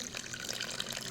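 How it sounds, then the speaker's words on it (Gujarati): Water is poured into a khaman batter mix of citric acid, sugar and salt; a short, soft trickling and splashing of liquid is heard close up without speech. "પાણી એડ કરીને"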